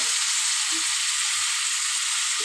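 Taro and potato frying in a pan with prawns, turmeric and salt, giving a steady, close, continuous hiss of hot oil throughout, with no one talking.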